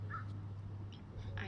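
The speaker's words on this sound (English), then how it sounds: "You can hear crows in the background here" Crows caw a few times in the distance beside a park pond, faint bursts over a constant low hum of outdoor background noise.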